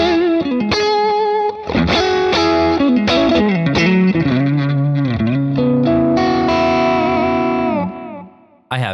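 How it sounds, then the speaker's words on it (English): An electric guitar played through an Axe-Fx III on an AC20 amp preset, with distorted chords and notes ringing out under chorus and echo effects, loud and close, before fading to near silence at the end. "I'm here on my current live preset, CC 2023. The main scene is the AC20. It sounds something like this."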